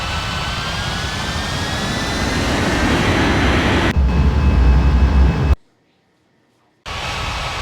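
A jet airliner roars on takeoff in an air traffic control video game. The engine drone is loud and steady, then cuts abruptly to silence for about a second before the roar resumes.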